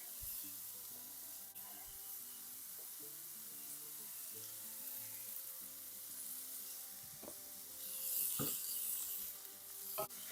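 Broccoli and carrots stir-frying in oil in a pan, giving a steady close hiss and sizzle that swells louder near the end, with background music playing underneath.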